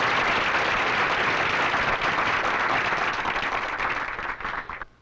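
A studio audience at a televised bowling show applauds steadily for about five seconds, a dense wash of clapping that holds level and then tapers off at the end.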